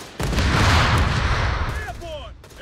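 A grenade explodes amid gunfire in the World War II strategy game Company of Heroes 3 during an Italian beach landing, a sudden loud booming blast with rumbling rattle fading over two seconds, and a voice shouts under it.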